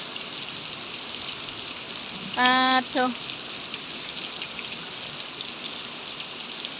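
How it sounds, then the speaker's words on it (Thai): Steady rain falls outdoors as an even, continuous hiss that persists throughout, with a person's voice briefly speaking over it. "ฝนตกค่ะนะ"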